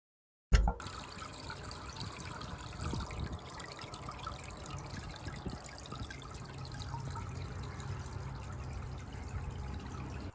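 Steady water trickling and splashing from a DIY container fountain on a porch, continuous and close, with a faint breezy background throughout.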